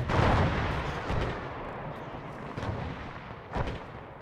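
Artillery fire booms through a video game battle at Long Tan. A heavy rumbling blast opens the sequence, and further thudding impacts follow at uneven intervals over a dense, noisy backdrop.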